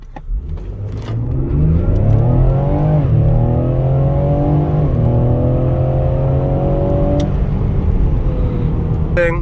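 A 2022 Ford Explorer ST in sport mode accelerates hard, its engine loud and close, the pitch climbing through the run with shifts just before the three- and five-second marks, then holding a strong steady drone.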